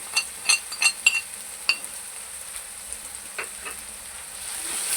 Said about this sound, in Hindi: अब मैं ये मेथी डाल रहा हूँ 1 चम्मच मैंने साफ़ करके